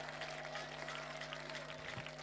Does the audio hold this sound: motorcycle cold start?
no